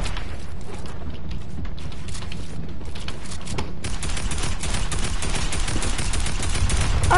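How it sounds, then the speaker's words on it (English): Sustained gunfire from many players in Fortnite, a dense rattle of overlapping shots and bursts that runs continuously and grows louder and busier in the second half. "Why is there so many people shooting at me?"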